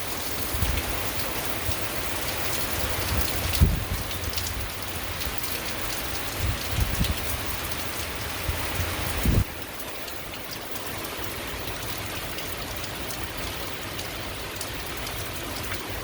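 Heavy rain pours steadily onto a street in Virginia Beach, a dense, constant hiss with a few brief louder splashes and a slight drop in level partway through, with no voices.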